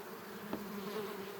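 Honey bees buzzing at an opened hive during a honey harvest, a steady close-up drone of many insects with a faint whirring pitch rising and falling.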